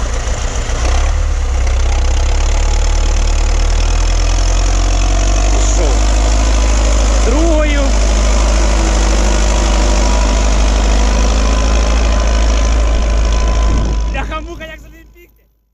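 A YuMZ 4x4 tractor engine runs steadily at a loud, close idle with a deep low rumble, some squeaks and a few voices in the background, before the sound cuts off near the end.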